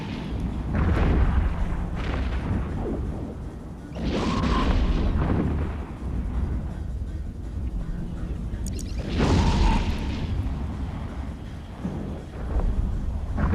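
Heavy weapon fire from a ship in the EVE Echoes space game, aimed at an Apocalypse with all four heatsinks active: repeated deep booming bursts, with two big blasts standing out over a continuous low rumble.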